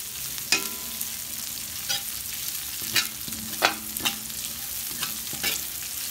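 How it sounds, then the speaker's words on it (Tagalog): Chopped onions tumble into a pan of browned garlic for spicy paksiw na pata, giving a steady close sizzle broken by several sharp stirring scrapes and clatters, with no talking. "Ilagay na natin ang ating sibuyas."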